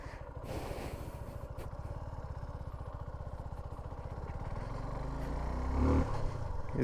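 Suzuki V-Strom 250 motorcycle riding off-road, its engine a steady, rapid thrum heard close throughout, rising slightly toward the end with some rough scraping from the terrain.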